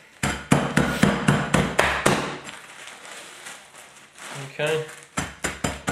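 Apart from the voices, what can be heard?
pan smashing cookies in a bag into crumbs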